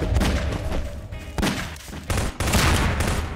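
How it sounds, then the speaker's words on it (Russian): Bursts of rapid gunfire crackle loudly in Garry's Mod (co-op SCP mode), several volleys separated by brief pauses, with dull thuds mixed in. "смотрите, еще пару выстрелов"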